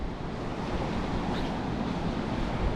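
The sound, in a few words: wind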